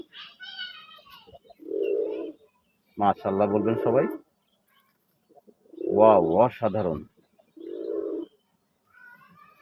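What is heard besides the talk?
pigeon cooing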